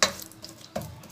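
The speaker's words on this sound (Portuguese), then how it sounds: "E vou continuar mexendo." Spoon scraping and stirring melting sugar in a thick pan while making a banana sweet, two short scrapes about a second apart with a faint sizzle between, close and quiet.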